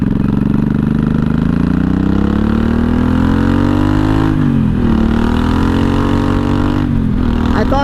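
A 1983 Honda Shadow VT750C motorcycle V-twin engine runs steadily and loudly up close, its pitch rising slowly then dipping around two brief throttle changes, with no voices.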